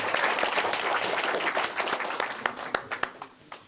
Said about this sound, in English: give a round of applause here to your teacher, Mr. Yang.